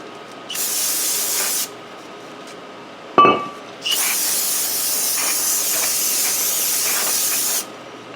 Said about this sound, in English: spray it with some brake clean